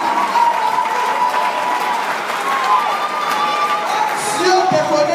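A church crowd applauds and cheers in worship, with sustained clapping and raised voices blending into a loud, continuous roar in a reverberant hall.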